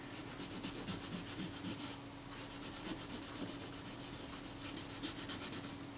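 Brown gunk being rubbed off the metal surfaces of a Retina IIa camera during cleaning, a steady close scrubbing with repeated short strokes throughout, no talking.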